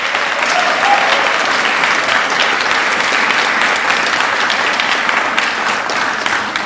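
Sustained, dense audience applause fills a speech venue at the Institute for a Free America, loud and steady throughout with no pause, a full round of clapping from a large crowd.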